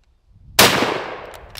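A single sharp gunshot at an outdoor shooting range cracks loudly and decays over about a second, with a fainter second report just after.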